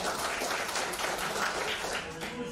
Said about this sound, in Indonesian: jadi kita mesti tepuk tangan semangat dulu